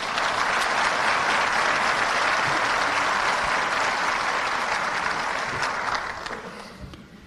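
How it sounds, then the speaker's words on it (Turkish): A large rally crowd in Diyarbakır applauds, a dense, steady roar of clapping that holds for several seconds and then tapers off at the end. "işte biraz önce alkış çaldığınız gibi"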